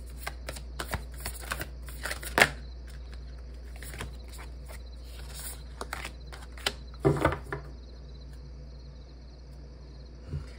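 Tarot advice cards are shuffled and drawn by hand, giving soft, close riffling and sharp snapping flicks in scattered bursts, with louder clusters partway through over a quiet hum.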